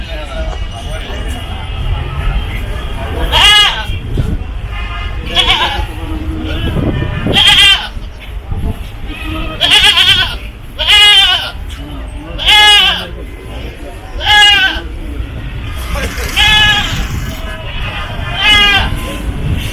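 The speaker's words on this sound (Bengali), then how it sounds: "প্রচুর ছাগল দেখা যাচ্ছে" Goats bleat repeatedly and loudly at close range at the Gabtoli cattle market in Dhaka, a dozen or so calls following one another above a low crowd murmur and nearby voices.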